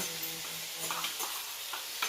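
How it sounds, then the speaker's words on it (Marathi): Green chillies fry in oil, sizzling and crackling steadily in a pan, with occasional soft stirring clinks, close by and without any talking. "आता मस्त तळून देते तेल सुटलं आहे"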